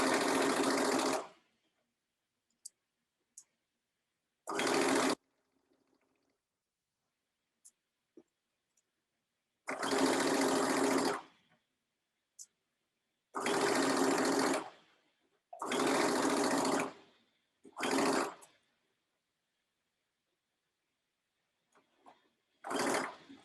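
A sewing machine stitches a lined dress's front and back seams in short bursts, loud and close, several separate runs of rapid whirring broken by silences and small clicks.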